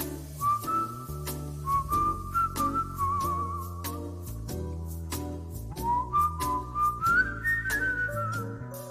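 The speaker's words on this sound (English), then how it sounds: "he still whistled in the thing." A singer whistles a melody late in his career, clear wavering tones in phrases rising and falling over a full instrumental backing, close and prominent with no talk.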